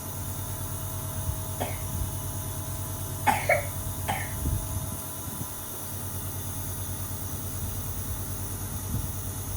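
A child's few short, sharp coughs, spaced apart and fairly close, over a steady low mechanical hum with no talking.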